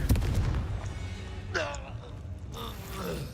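Explosive burst of a Confringo blasting spell in the Hogwarts Legacy video game, a loud crack at the start followed by swishing magical effects and game sounds with voices over them.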